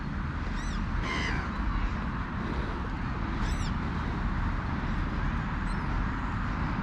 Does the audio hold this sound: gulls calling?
yes